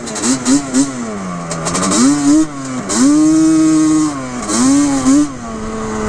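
Yamaha Zuma scooter engine revving hard in repeated bursts as its rear wheels spin without grip, a loud buzzing whine that rises, drops and surges again, close by.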